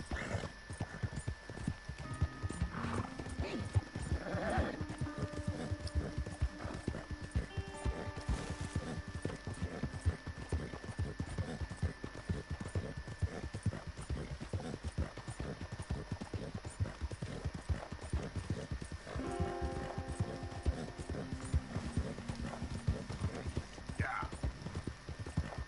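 Horse hooves clip-clop steadily and continuously in Red Dead Redemption 2 over open ground, a close, rhythmic gait lasting throughout, with occasional snorts, tack jingles and a voice talking now and then.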